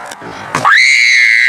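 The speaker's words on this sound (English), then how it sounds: "One night, Sarah began screaming from her room" A girl's shrill scream rises abruptly after a short shuffle and holds loud and close, alone, as a horror story sound effect.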